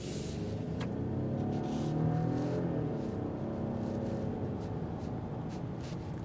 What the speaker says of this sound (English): That's a pretty throaty inline 4-cylinder.